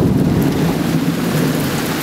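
Steady heavy rain pours without pause during a summer evening thunderstorm in July, with a deep low rumble of thunder running underneath the dense hiss of falling water, close and loud throughout.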